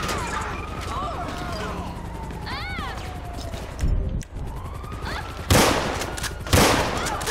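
Gunfire directed at a police officer in GTA 5 on PC: several loud, sharp shots burst out in the latter half, spaced about a second apart, over a busy game soundscape with wailing sirens and voices.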